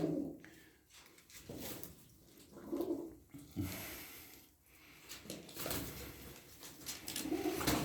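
Tumbler pigeons coo at close range, repeated soft throaty calls in uneven bursts over a busy background with some fluttering and rustling, no talk.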